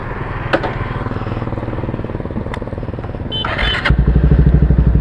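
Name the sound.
Yamaha R15 v3 motorcycle engine with aftermarket exhaust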